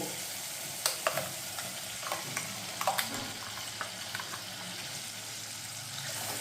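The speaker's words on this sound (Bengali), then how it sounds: "এবার ভালো করে মশলাটাকে কষিয়ে নেব" A ground paste of poppy seed, cashew, coconut and raisin sizzles softly in a pan, with scattered spatula clicks and scrapes over a faint steady frying hiss.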